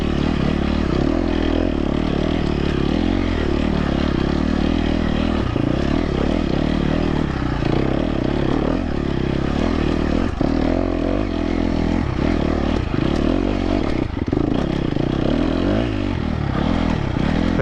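KTM 250 XC-F dirt bike engine straining steadily in first gear as it climbs a desert trail hill, a loud close continuous rumble with uneven surges and brief dips in revs, no voices over it.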